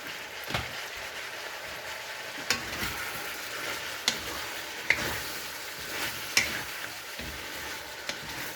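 Green beans and pork stir-frying in a pan, a constant crackling sizzle like light rain, punctuated every second or so by sharp clinks of a spatula against the pan, no voices.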